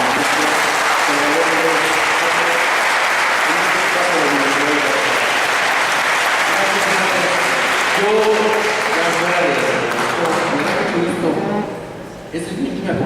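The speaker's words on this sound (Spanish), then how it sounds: "le podemos brindar un fuerte aplauso." Strong audience applause fills a university environmental management forum hall, steady clapping with voices talking over it before the noise tapers off near the end.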